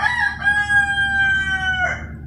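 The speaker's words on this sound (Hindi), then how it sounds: "मैंने मुर्गियों को भी खोल दिया" A rooster among free-roaming chickens outdoors gives a loud, close, drawn-out cock-a-doodle-doo lasting nearly two seconds over low wind rumble.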